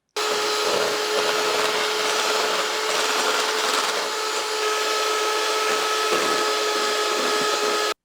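An electric hand mixer whips a dairy-free keto muffin mixture to stiff peaks, a steady, close, high-pitched motor whine that runs unbroken for about eight seconds with no talking.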